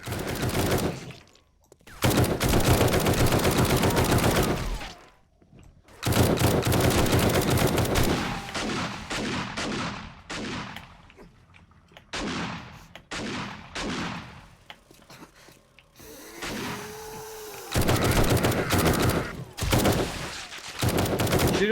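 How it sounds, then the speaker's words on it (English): Gunfire in the zombie survival game 7 Days to Die on insane mode, loud sustained bursts of rapid automatic shots with short pauses between volleys, followed by scattered single shots and quieter stretches. "Shoot them till they're dead, and shoot them a couple extra times."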